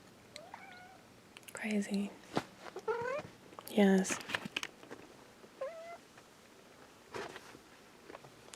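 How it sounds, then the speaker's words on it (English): A pet cat meows repeatedly with a purring undertone, the calls coming in short bursts close to the microphone while a person speaks softly nearby. "I love this kitty so much."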